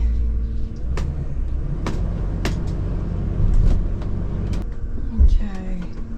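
An RV rolls slowly through a sharp, tight turn onto a road, its low engine rumble steady and close with a few knocks and clunks, while people talk over it.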